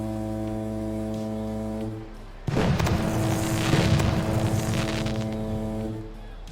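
Fireworks going off during a ballpark home-run celebration in the OOTP Baseball 21 video game, a sustained low horn blast cutting out, then a burst of booming, crackling fireworks over the crowd that gradually fades.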